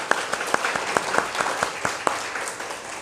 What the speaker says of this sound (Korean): 우리 축하 박수 드립시다.